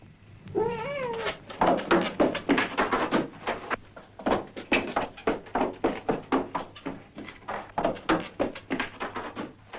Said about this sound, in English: Davy, catch the cat.